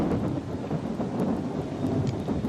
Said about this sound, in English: It's gonna be an awful storm.